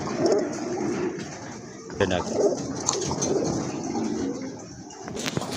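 Pigeons, sky-blue Raj Golla birds, coo in low, throaty repeated phrases close by, with murmured voices and a little handling noise mixed in.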